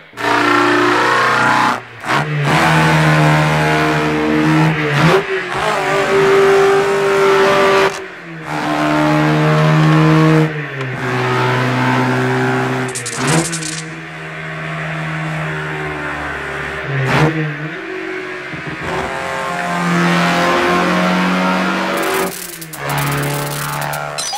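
Race cars from the 1975 animated film Flåklypa Grand Prix accelerate hard on a racetrack. The loud engine notes climb in pitch, drop with each gear change and climb again, with cars roaring past and soundtrack music mixed in throughout.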